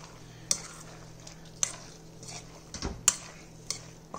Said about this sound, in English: So all you have to do is just put all the ingredients in the bowl, mix a little.